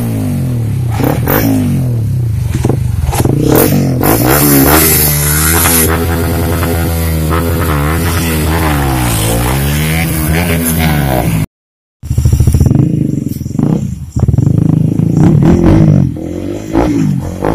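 A motorcycle engine revs hard at close range during a street race, rising and falling in pitch through long loud sweeps, cut by a brief gap before the roaring resumes.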